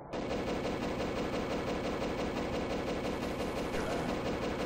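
Turrets in the video game Factorio firing as continuous rapid machine-gun bursts, a dense unbroken rattle of shots running loud and steady throughout.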